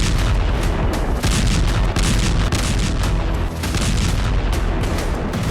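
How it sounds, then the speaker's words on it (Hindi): Repeated loud explosions from a Russian missile strike on Dnipro, Ukraine, a dense run of heavy booms and blasts filling the whole stretch without pause. "रूस की मिसाइल स्ट्राइक से निप्रो में एक दो नहीं बल्कि कई जबरदस्त विस्फोट हुए।"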